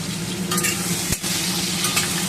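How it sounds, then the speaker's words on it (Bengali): Potatoes fry in oil left over from frying fish, a steady loud sizzle and crackle close by, with a brief stirring knock partway through. "মাছ ভাজার তেলে আমি আলুগুলো ছেড়ে দিলাম"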